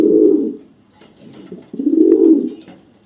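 Two male Teddy pigeons coo nearby in two soft, throaty bouts separated by a brief pause, with faint fluttering sounds in between.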